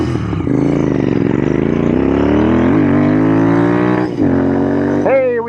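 Royal Enfield Interceptor 650 motorcycle with a cut rev limiter revving hard, its engine rising and falling in pitch, loud and close, with a final sharp rev near the end.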